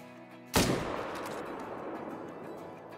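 A single loud hunting rifle shot in the African hunting game Call of the Wild cracks out abruptly, then a long rolling echo trails off across the open landscape.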